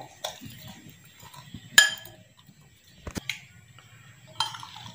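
Spices being mixed in a bowl for tawa fish, with a few sharp spoon clinks against the bowl and soft scraping stirs between them, sparse and close.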